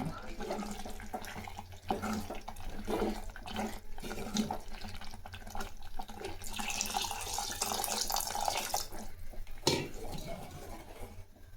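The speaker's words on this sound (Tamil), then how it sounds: "இப்போ கொஞ்சம் தண்ணி சேர்க்கலாம்" Water poured into a village-style fish curry in a pot, a splashing, gurgling pour with some utensil clinks, moderately quiet and continuous over roughly twelve seconds.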